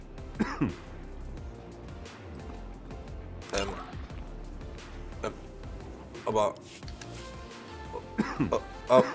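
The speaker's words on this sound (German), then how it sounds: "Der hier, der hustet so komisch." A sick fever victim in the Star Wars: The Old Republic video game coughs in repeated harsh, rasping fits spread across the clip, close and fairly loud, over quiet game ambience.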